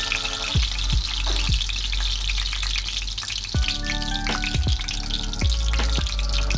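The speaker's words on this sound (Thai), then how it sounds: "อันนี้ไปอยู่ทอดรอบสองนี่ตะกอนสีน้ำตาลเนี่ยก็จะเริ่มเข้มขึ้นมากกว่าเดิมค่ะ" Breaded pork schnitzel deep fries in hot oil, a close, steady bubbling sizzle with scattered pops and occasional clinking of a utensil against the pan.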